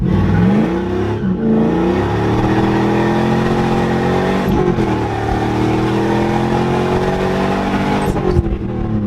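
A car launches hard with its drive wheels spinning, giving a loud, sustained engine roar with tire scrub that holds steady for several seconds and shows brief dips as the revs shift, with no one talking over it.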